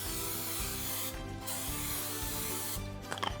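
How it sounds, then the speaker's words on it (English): Non-stick cooking spray hissing onto cake tins in a kitchen, two or three close bursts of steady spray broken by short pauses, with a faint rub at the end. "Now grease your tins with non-stick cooking spray"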